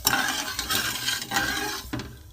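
A pot of sugar syrup for carrot prawn pitha is stirred, giving uneven scraping and bubbling bursts with a few knocks of the utensil against the pot, close and moderately loud, with no talk.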